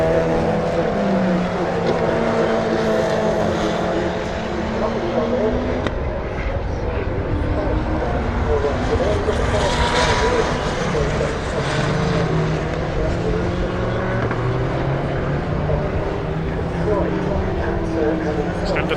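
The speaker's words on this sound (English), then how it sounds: "a plane takes off there from East Midlands Airport" A plane takes off from East Midlands Airport beside the Donington GP circuit during an endurance race, its broad roar swelling and fading beneath continuous race-car engine noise and a commentator's voice.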